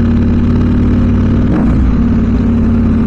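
A KTM 790 Adventure motorcycle engine revs loudly and close at night in Antipolo, a steady mid-pitched drone with a brief surge midway.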